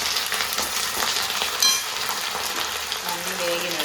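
Onions, green chillies, curry leaves and mint frying in a pan, a steady loud sizzle with a few stirring scrapes throughout.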